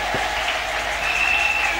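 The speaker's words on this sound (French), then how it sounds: "Acclamez pour Jésus très fort." A church congregation claps for Jesus during a Friday miracle service, with dense, sustained applause from a crowd filling the room evenly.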